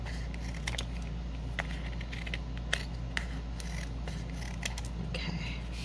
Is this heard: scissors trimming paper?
yes